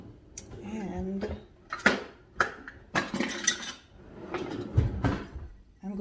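A measuring cup being washed in a home kitchen, with irregular clinks and knocks of dishes and utensils, brief rushes of water, and clattering handling sounds spaced across the moment.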